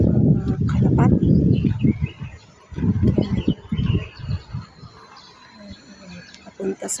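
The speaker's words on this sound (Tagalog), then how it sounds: "Kalapati." A pigeon cooing in Tin Shui Wai Park, Hong Kong: low, soft, repeated cooing close by, mixed with other bird sounds and voices.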